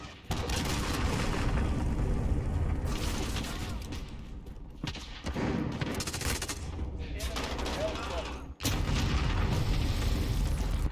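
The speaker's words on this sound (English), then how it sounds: "Enemy cruise missile incoming." In a Call of Duty Modern Warfare match, an enemy cruise missile strike lands as loud, sustained booming blasts and rumbling gunfire, with brief dips and a sharp renewed impact near the end, a voice talking over it.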